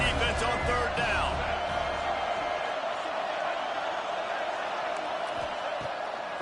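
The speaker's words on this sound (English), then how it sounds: "Decibels rising as the crowd gets behind this defense on 3rd down" Stadium crowd roaring during an American football third-down defensive stand, a dense continuous wall of noise that holds loud and steady throughout, with cheers and whistles near the start and commentary talk running over it.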